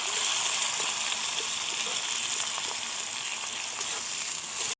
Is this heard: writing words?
no